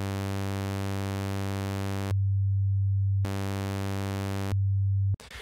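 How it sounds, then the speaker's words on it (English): A DUNE 3 wavetable synth holds a steady buzzy tone that abruptly jumps between waveforms, alternating between a bright harmonic-rich sound and a plain low hum in blocky, stair-stepped sections. "we can hear it jumps from one waveform to the other"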